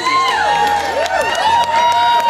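A large, enthusiastic crowd cheers and shouts loudly and continuously at a live record attempt, with voices and whistles rising and falling.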